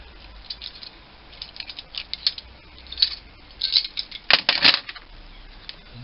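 A brake pipe flaring tool being unlocked in a home workshop gives a few close metallic clicks and rattling mechanical snaps that cluster near the end, over quiet background noise.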